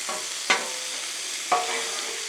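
A burger patty sizzles on a griddle with butter, a steady close hiss broken by two sharp spatula clacks as it is flipped.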